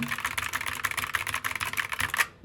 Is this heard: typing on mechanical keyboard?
yes